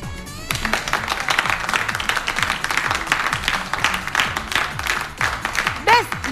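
Studio audience applause at a television comedy show, a dense sustained clapping crowd rising and falling, with a host's voice speaking over it.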